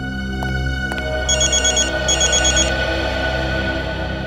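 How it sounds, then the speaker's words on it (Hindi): An electronic telephone ringtone sounds loud and close in a theatre setting, its warbling rings repeating in two bursts over a steady background hum. "अभिजीत का फोन है।"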